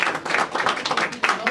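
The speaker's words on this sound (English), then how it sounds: "can we get another round of applause?" A short burst of audience applause at a youth leadership kickoff event, with clapping rising and falling over murmuring voices.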